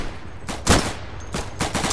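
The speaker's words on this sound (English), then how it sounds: "I'm receiving fire, but I can't place them." Incoming gunfire in the World War II shooter Day of Infamy, Battle of the Bulge setting: two sharp, loud clusters of rapid shots crack out in quick bursts, the second volley longer and more ragged than the first.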